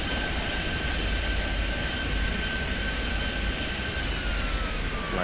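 An airplane passes in the Airport Madness 3D airport game at JFK, a steady broadband engine roar that holds loud and even throughout, with a faint high whine running across it.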